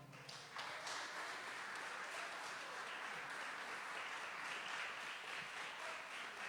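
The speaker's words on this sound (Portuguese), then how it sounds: "aplauda ao Senhor." A church congregation breaks into applause, starting with a few claps and swelling after a moment into steady, dense clapping from the whole room that carries on to the end.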